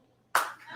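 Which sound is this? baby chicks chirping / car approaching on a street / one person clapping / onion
one person clapping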